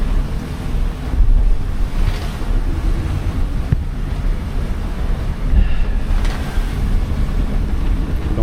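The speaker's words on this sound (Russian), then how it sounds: "Кажется, эта волна как-то связана с мелкотой, поскольку здесь мелко, 22 метра всего." Waves wash steadily around a sailboat in shallow 22-metre water in 25-knot winds between St. Lucia and Martinique, a continuous rushing surf with heavy wind buffeting close to the microphone.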